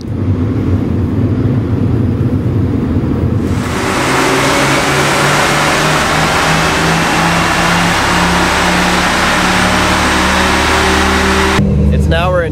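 Engine of a Pinzgauer 710M military vehicle driving off-road at a Jeep playground, a loud steady drone that swells into a strong rumble partway through and holds.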